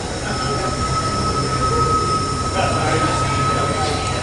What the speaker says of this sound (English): All right, just in time for the train whistle.